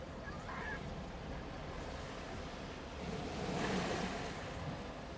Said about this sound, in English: Not just the sound of waves,